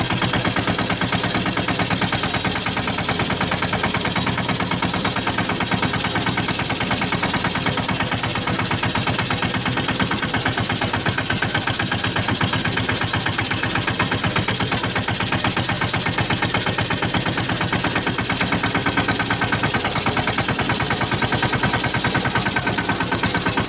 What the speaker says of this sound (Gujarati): જોઈ શકો છો આ ઢોરા ઉપર ટેક્ટર ચડાવું છું ડુંગર ઉપર